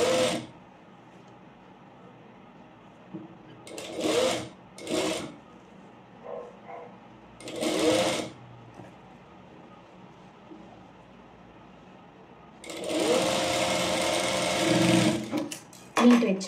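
A sewing machine stitches pleats on a petticoat in several short whirring bursts, then one longer steady run near the end. A voice speaks quietly in the pauses between runs.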